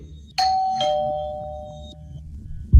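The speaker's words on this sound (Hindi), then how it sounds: "जैसे ही उसने कुंडी लगाई, तीसरी बार घंटी बजी।" A household doorbell rings in a Hindi horror story, a bright two-tone chime struck twice in quick succession, close and loud in an otherwise quiet room, its tones ringing out for over a second.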